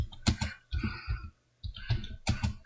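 Quick bursts of clicking keys on a computer keyboard, typed in short uneven runs with a brief pause midway, close and fairly quiet.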